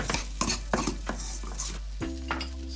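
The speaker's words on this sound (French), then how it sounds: "On écrase bien le riz et on commence à faire sauter" Rice and vegetables stir-fried in a pan, with a utensil scraping and clacking against the metal in a steady rhythm of strikes over a soft sizzle, close and clear, with no talk.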